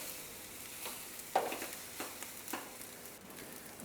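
Steaks sear on a hot grill, a soft steady sizzle with a few sharper crackles and pops, heard up close at low volume.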